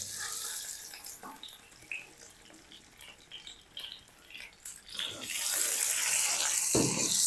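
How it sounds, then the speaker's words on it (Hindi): Chili water poured into hot ghee with crackled cumin for restaurant-style white chana cholay, giving a close, rushing pour and sizzle that swells loudly near the end, with scattered light clinks before it. "अब हम इसमें शामिल कर देंगे मिर्ची वाला पानी।"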